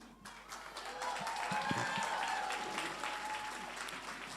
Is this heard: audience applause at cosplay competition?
yes